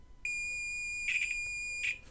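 A multimeter on continuity test emits a steady high-pitched beep for nearly two seconds as its probes touch wires, clear and close with no talk.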